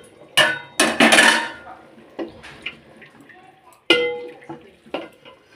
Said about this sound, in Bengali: এই যে ঢাকনাটা খুলে দেবো